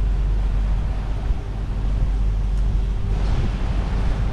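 Princess Y85 superyacht moving off gently as its engines pick up revs, a steady low rumble with wind and water wash, fairly loud and constant with no talk.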